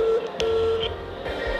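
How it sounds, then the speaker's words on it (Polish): A telephone keypad sounds several short dialing tones in quick succession, clear and close, with a few soft clicks between them. "Już dzwonię."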